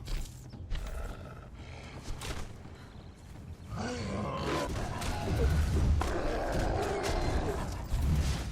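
Wolves in the video game Conan Exiles growl and snarl while attacking, a rough roaring and grunting that swells and thuds under low game noise, growing louder in the second half.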